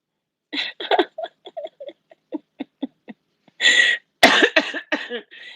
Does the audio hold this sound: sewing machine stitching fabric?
no